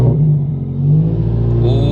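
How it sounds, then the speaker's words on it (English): Turbocharged FRS running E85 fuel on a dyno, a loud, close exhaust rumble holding steady around a low idle, a deep continuous drone with slight rise near the end. "Hope you guys can hear me because the exhaust is pretty loud."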